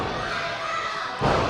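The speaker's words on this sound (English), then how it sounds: "That's him thumping the mat." A wrestler slaps the ring mat with his hand during a match, a brief dull thud rising near the end over a steady crowd-and-commentary wash.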